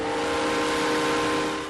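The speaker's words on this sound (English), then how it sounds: "From the sound of steam engines" Steam engine whistle, a sustained tonal blast with layered harmonics over rumbling engine noise, loud and continuous for under two seconds.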